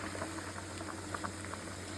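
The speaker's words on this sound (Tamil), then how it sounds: "ஒரு பக்கம் வெந்நீர் வச்சுருக்கேன், கொதிக்க விட்ருக்கேன்." Water boils in a pot on the stove during home cooking, a constant low bubbling hiss with scattered small pops throughout, steady and fairly quiet with no talking.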